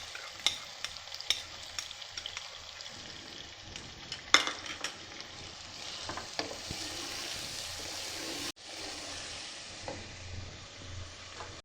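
Chicken keema frying with yogurt in a pan gives a soft, steady sizzle under frequent scrapes and taps of a stirring spoon, with one sharper clatter midway; quiet and close, with no talking.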